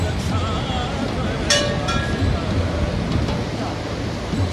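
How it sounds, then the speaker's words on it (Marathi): Roaring Saraswati river near Mana village, a loud, steady rush of whitewater that fills the whole stretch as close, continuous noise without a break. "पाहू शकता सरस्वती मातेचा शोर किती इकडे आहे जे आवाज किती कलकल कलकल पाण्यात येतो"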